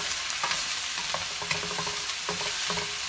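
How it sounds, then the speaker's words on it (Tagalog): Tomatoes sauté with garlic and onion in a pan, sizzling steadily while a utensil stirs and scrapes in repeated strokes close by. "Igisa-gisa."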